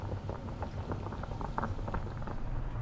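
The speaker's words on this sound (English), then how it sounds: "potatoes have been on the boil for about 15 minutes" Potatoes boiling in a pot, a soft continuous bubbling and popping patter at low level, steady throughout with no talking.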